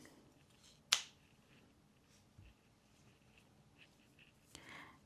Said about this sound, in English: Now we are going to cut the yarn.